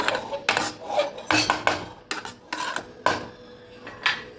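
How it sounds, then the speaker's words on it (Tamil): A metal lid is set onto a cooking pan of semiya upma, a run of scraping, clattering metallic knocks at close range with no talk. "எல்லாம் போட்டுட்டு இப்போ நான் இதை வந்து மூடி வச்சிடுறேன்"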